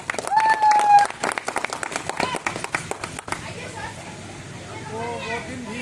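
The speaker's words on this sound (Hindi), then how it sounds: "नित्यानंद सर के लिए जोरदार ताली" An audience breaks into loud applause for Nityanand Pandey, dense clapping that thins out after a few seconds as voices and chatter take over.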